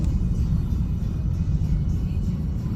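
Heavy evening road traffic in the Philippines rumbles continuously, with a deep low drone of car and motorcycle engines passing close by and no voices.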